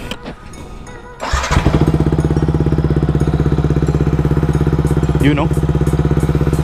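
A big bike motorcycle fitted with an Akrapovic full exhaust system cranks and fires up. It settles into a loud, close, steady throbbing idle, and a voice speaks briefly over it.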